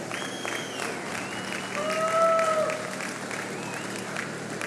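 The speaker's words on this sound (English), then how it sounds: "Let's give a big round of applause for the people that put on an amazing show." Crowd applause at a county fair show in Canyon County, Idaho, a broad steady clatter of hands heard alongside sustained tonal sounds and whistle-like glides, swelling slightly midway.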